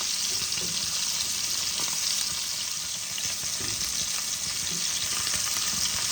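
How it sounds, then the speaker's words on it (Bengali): Pieces of ilish (hilsa) fish fry in hot oil until lightly red, a dense, steady sizzle with continuous crackle and occasional faint stirring, close and without talk. "মাছগুলো দেখো আমি হালকা লাল করে ভেজে নেব।"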